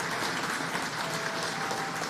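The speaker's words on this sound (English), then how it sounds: "yeah, you can applaud that" Steady, dense applause from an audience at a speech about retooling an auto plant, a constant wash of clapping with no pauses, moderately distant and even throughout.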